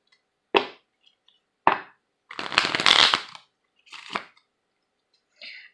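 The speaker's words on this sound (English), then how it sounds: "Go ahead and give these a quick shuffle." A deck of oracle cards being shuffled in several short riffling bursts with pauses between, close and crisp in a quiet room.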